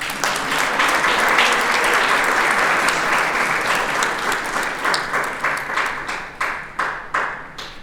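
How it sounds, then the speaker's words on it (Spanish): An audience at the presentation of the Así Estamos Juárez 2023 report breaks into loud, sustained applause that thins into scattered individual claps and fades out over several seconds. "Aplaudimos."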